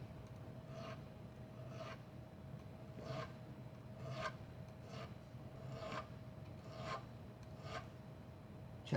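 Hand filing smooths a surface on the ILS 300 boat Ocean Blue, with about nine steady rasping strokes at an even rhythm, close but quiet over a low background hum.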